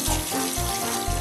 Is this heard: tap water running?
yes